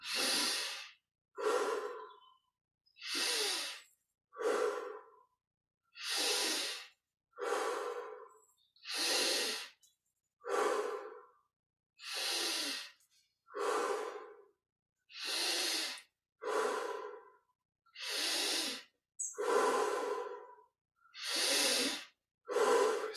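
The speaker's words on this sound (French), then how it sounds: "Inspire par le nez, expire par la bouche. Respiration profonde." Deep breaths drawn in through the nose and pushed out through the mouth during a chest-opening exercise, about a dozen slow, even cycles of loud airy breathing with short silent pauses between them.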